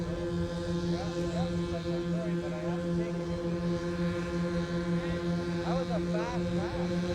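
The engines of a scale Boeing 747 model airplane run together as a steady, close droning whine with strong tonal hum, while a voice speaks intermittently over it.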